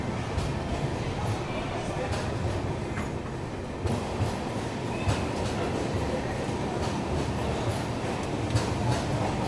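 The Hyderabad Duronto Express picks up speed leaving Kazipet station, heard from aboard as a constant loud rumble with wheel clatter and occasional knocks throughout.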